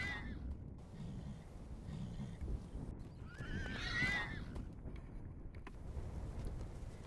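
Young wild bachelor horses playing in open range country let out a distant whinny and neigh, with faint hoof clops and wind noise around them.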